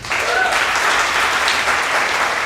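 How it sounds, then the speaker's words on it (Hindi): Audience applause at a Hindi church gathering, a steady dense clatter of many hands clapping at once, loud and continuous throughout with no talk. "एक बार ताली हो जाए"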